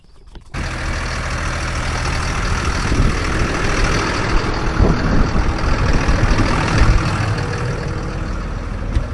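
A farm tractor with 19,300 hours on it starts up and then idles loud and close, a heavy, steady diesel rumble with a faint rattle, while its air conditioning runs during sowing.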